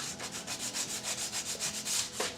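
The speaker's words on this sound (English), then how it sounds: "do some last minute sanding" Sandpaper rubbing back and forth on the wooden wall framing of a model house, a steady rhythmic rasp of about a dozen even strokes, close and alone.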